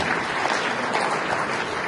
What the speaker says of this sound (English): Please, ladies and gentlemen, applaud this wonderful people.